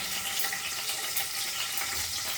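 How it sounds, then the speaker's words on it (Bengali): Raisins fry in hot oil in a pan, right after cashews were fried for a vegetable pulao, giving a steady, close, even sizzle with no pauses. "এবার আমি কিশমিশটা একটু ভেজে তুলে রাখছি।"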